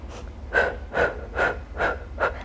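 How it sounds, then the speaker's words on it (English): Rhythmic, close breathing during a Pilates workout, five evenly spaced breathy puffs in a row, each a short forceful rush of air with no words spoken. "Exhale through your mouth."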